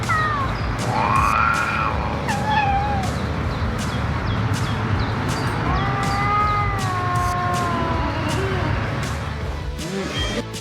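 A house cat yowls and caterwauls in a residential yard while defending its territory against an intruding fox. The drawn-out, wavering cries come in several bursts, some strained and rising, over a constant noisy outdoor background.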